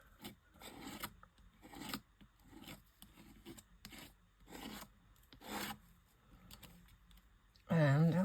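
Homemade embossing paste is scraped over sheet-music paper in a series of short, rhythmic rasping strokes, faint and close, ending in a brief louder burst.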